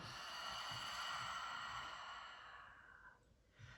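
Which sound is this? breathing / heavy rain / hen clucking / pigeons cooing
breathing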